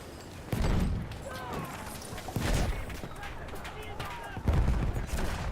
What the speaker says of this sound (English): There's bloody nades everywhere.